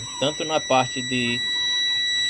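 A digital multimeter gives a steady, high electronic beep while its probes are being tested for resistance. The beep sounds continuously through the whole stretch, underneath someone speaking Portuguese.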